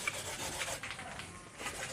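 A ring gemstone rubbed by hand on thick folded newspaper to smooth it, giving soft repeated scraping strokes in an uneven back-and-forth rhythm, close up and fairly quiet.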